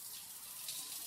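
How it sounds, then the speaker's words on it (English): Falling shower water in a visual novel video game makes a steady, soft, broadband hiss throughout, with no voices. "She also heard the sound of falling water. It was probably coming from the shower room."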